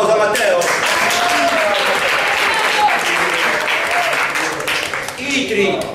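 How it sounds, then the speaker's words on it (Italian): Audience applause at the Memorial Calise 2013 event, dense and sustained for the whole stretch, with an announcer's voice carrying over the clapping. "facciamo un applauso a Matteo."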